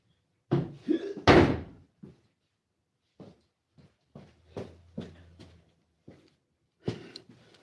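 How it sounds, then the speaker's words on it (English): An interior door is swung shut with one loud, close slam near the start, followed by a few quieter thumps and light handling knocks spread across the rest of the clip. "Close that door."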